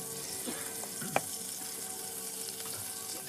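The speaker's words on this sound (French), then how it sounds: "je vais faire revenir un petit peu d'oignon" Onion frying in butter in a pan gives a steady, faint sizzle with a few soft clicks and a brief clatter, no voices.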